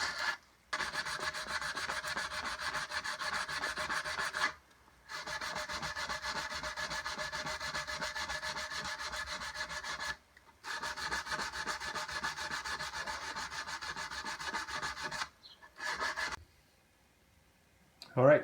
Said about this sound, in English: This is 100 grit sandpaper, so I want to work all the way to around 300